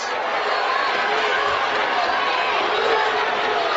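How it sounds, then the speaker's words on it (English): A large crowd murmurs and chatters in a continuous, dense wash of voices, with some hushing within the steady background noise. "There's people in the background telling everybody to be quiet."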